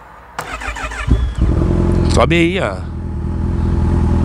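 A motorcycle engine starts up close, barks into a quick rev and settles into a steady idle, while people talk nearby.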